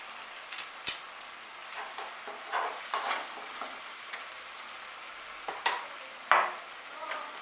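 Kolkata street-style egg chowmein is stir-fried after tomato sauce goes in, with soft sizzling and a series of light scrapes and taps of a utensil against the pan, fairly quiet and close.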